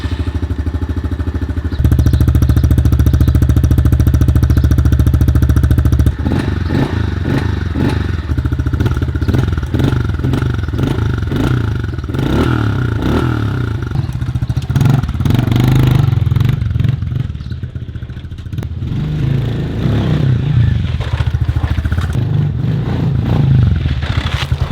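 A 2022 Honda CRF110F pit bike starts up and rides a lap of a backyard dirt track, its small engine loud and close, revving up and down with some clatter and thumps, no talking.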